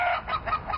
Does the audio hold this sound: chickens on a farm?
yes